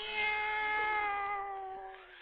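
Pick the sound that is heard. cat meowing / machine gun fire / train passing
cat meowing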